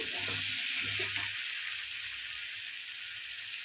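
Ginger sizzles steadily in hot oil while being cooked for a bethua greens dish, a continuous close frying hiss with a few soft stirring knocks early on.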